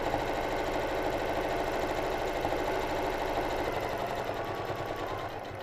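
A sewing machine runs continuously, stitching and reverse-stitching a Japanese rice bag, a loud close whirring hum with a fast rapid needle rhythm that eases slightly near the end, with no talking.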